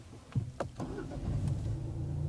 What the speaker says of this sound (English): Whenever you're ready, Dave, start your engine.